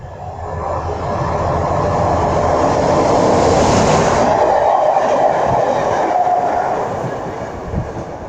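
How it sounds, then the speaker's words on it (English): A Virgin Trains East Coast high-speed train arrives at Durham station, a loud, steady rumble of wheels and rails building and then easing off as the carriages roll past close by. "next service arriving is a Virgin Trains East Coast service HSC to Newcastle"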